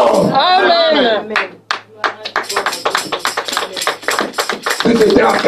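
A church congregation claps during a sermon, a run of loud, rhythmic hand claps, with a preacher's voice at the start and end.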